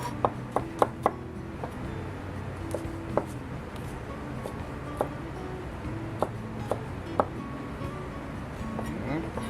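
Knife chopping garlic on a board, a series of crisp taps with an uneven rhythm, some quick clusters and some spaced strikes, close over a quiet kitchen background.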